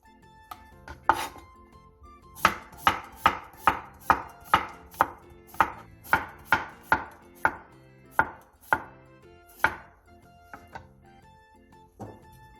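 A knife slices three cucumbers into thin rounds on a cutting board, giving a quick, even run of about fifteen sharp, close chops, then a pause and one last cut.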